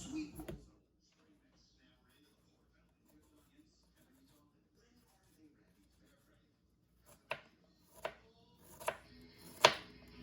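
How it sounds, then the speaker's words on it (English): A knife minces red onion on a cutting board, a quiet stretch giving way to four crisp, spaced chops near the end, close up and alone. "let me start mincing through this onion"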